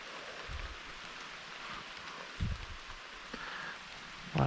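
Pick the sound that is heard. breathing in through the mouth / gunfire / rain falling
rain falling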